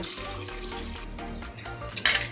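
Water pouring from a tap into a pressure cooker of soaked dried peas, with a steady running splash that grows louder and brighter near the end as the vessel fills.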